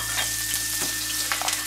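Green and red chili peppers hitting hot oil with sesame oil in a wok, a dense crackling sizzle with a few sharp pops over about two seconds.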